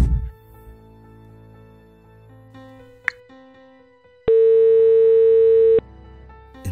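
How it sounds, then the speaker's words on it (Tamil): A phone call connects to a number that is switched off: a few faint low tones and a click, then a loud steady electronic tone held for about a second and a half before stopping, with no speech. "ரவிக்கு சுவிட்ச் ஆஃப் சுவிட்ச் ஆஃப்னு வருது."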